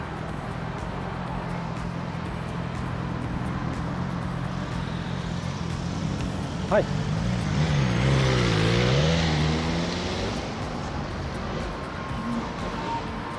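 Cars pass in city traffic around a Xiaomi electric scooter, a steady wash of engine and road noise with one vehicle swelling by in the middle, and a brief spoken word.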